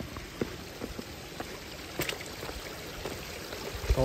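Irrigation water spreads across a farm field in Ghanpokhara, Lamjung, Nepal, giving a faint, steady trickling and pattering with small splashy ticks throughout.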